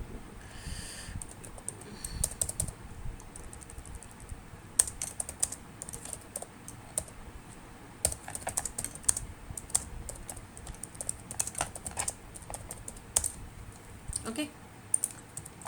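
Code typed on a computer keyboard, with quick bursts of close, crisp key clicks separated by pauses and a brief spoken word near the start.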